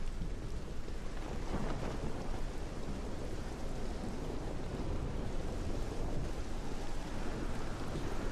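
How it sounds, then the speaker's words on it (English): A thunderstorm in the video game Morrowind: continuous heavy rainfall with a deep rolling rumble of thunder underneath, steady and enveloping throughout. "Thunder and lightning."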